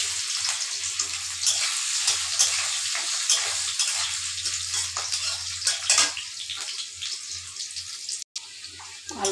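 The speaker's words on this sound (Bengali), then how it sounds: "আলুটা কিছু ভাজা হয়ে গেছে গিয়া" Potatoes frying in a pan give a steady hiss and crackle throughout, joined by intermittent scraping of a stirring utensil and a low hum underneath.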